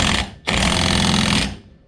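An impact wrench tightens axle stub bolts on a Nissan 240SX, two loud close buzzing bursts separated by a brief pause, the second lasting about a second before trailing off.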